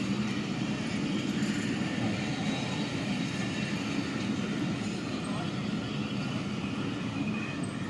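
A Pakistan Railways train rolls along the platform at Qilla Sattar Shah station, a steady low rumble with faint wheel clatter throughout, fairly distant and even in level.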